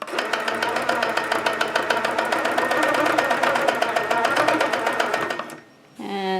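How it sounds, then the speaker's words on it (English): A sewing machine stitches a quilting circle along a ruler, giving a loud, fast, steady mechanical chatter of needle strokes that stops abruptly near the end, followed by a short squeaky sound. "Now I'm just going to finish stitching up the circle to over here."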